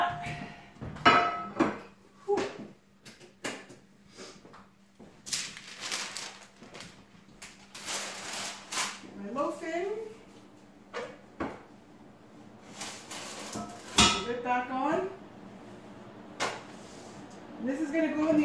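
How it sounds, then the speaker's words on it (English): A hot cast-iron Dutch oven and its lid clank and clatter while sourdough bread is loaded in, with an oven door opening and closing, several sharp metallic knocks spread through the stretch, and a person talking between them. "I'm going to get this in my oven. So I have my Dutch oven in here."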